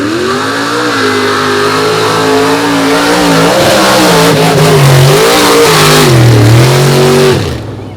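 A leaf-sprung Chevy S10 truck races through a mud pit in an unlimited-class run, its engine roaring loud and close and rising and dipping in pitch as the revs surge, before cutting off sharply at the end.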